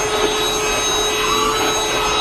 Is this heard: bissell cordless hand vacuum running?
yes